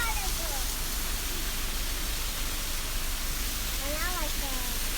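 Steady roar of a waterfall in Tantalus, Oahu, Hawaii, a broad continuous rush of water, with a few faint voices briefly rising over it.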